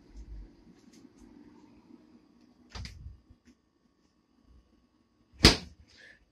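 A household refrigerator door is opened. Two short, muffled clunks of handling and the door sound stand apart in an otherwise quiet room with a faint low hum.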